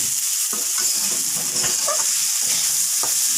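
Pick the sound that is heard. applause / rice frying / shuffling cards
rice frying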